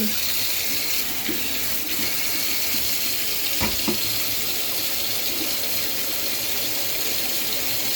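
Water gushes steadily from an open tap in a loud, continuous, close rush that lasts throughout, with a couple of faint knocks partway through.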